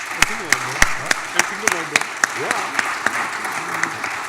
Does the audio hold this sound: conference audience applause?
yes